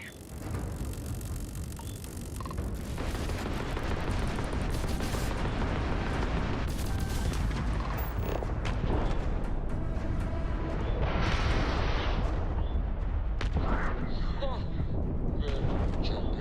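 Gunfire and explosions in the Starfield space game fill a dense, loud, continuous battle mix, with sharp blasts and bursts layered over rumbling low end throughout, and a voice talking under it.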